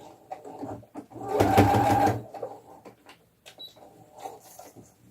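A sewing machine stitches a seam on cloth rag-doll pajamas and finishes with a backstitch: one loud, steady burst of motor-driven stitching lasting under a second, then quiet handling noises.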